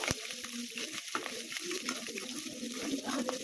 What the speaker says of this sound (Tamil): இப்போ நம்ம சில்லி ஆட் பண்ணிக்கலாம். சில்லி கொஞ்சம் நல்லா வதங்கணும்.